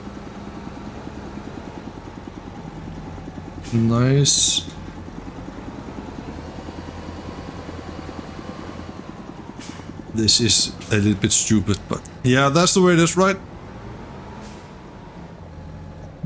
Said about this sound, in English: We're gonna turn off the engine